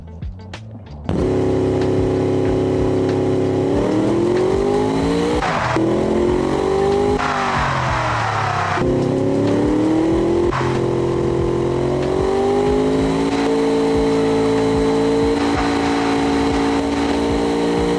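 An engine revs in the Automation video game, powering a 1980s Chentiac Fette sports car: a loud, steady, close drone with harmonics that climb and drop through repeated throttle changes and gear shifts, running continuously without talk.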